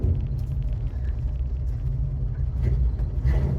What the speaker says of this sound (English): There's no real reason for this test drive